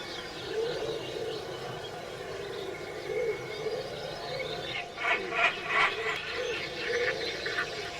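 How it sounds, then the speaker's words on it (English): A wood pigeon coos softly in the distance at a fishery on a hot summer's day, its repeated calls set among other birdsong in a warm outdoor ambience. "You can also hear like a wood pigeon."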